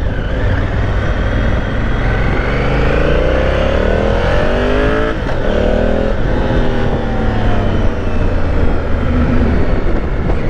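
A 2018 Honda Africa Twin motorcycle engine while riding in a high gear, a loud, continuous close drone with rising and falling engine tones under steady wind rush and no talk.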